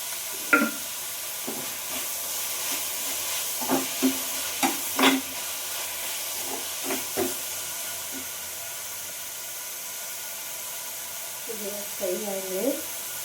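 Tomatoes with salt fry in a pan, giving a steady soft hiss with scattered spoon clicks and stirs, and a voice briefly talks near the end.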